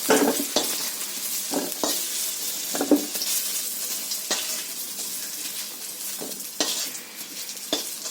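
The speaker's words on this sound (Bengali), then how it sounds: "কচুটা আমি আরেকটু চাপা দিয়ে ভেজে ভাজা হয়ে গেছে কিনা আমি একটু দেখতে নেব" Pieces of taro frying in a pan, with a continuous close sizzle broken by repeated scraping stirs of a spatula against the metal at an uneven rhythm.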